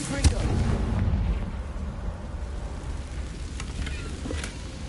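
A Confringo fire spell in Hogwarts Legacy goes off with a sharp blast that decays into a rumbling, crackling burn, and a few fainter pops follow in a busy game soundscape.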